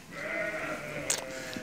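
A single sustained, quavering sheep bleat from a ewe, close by, ending with a faint clatter in the background.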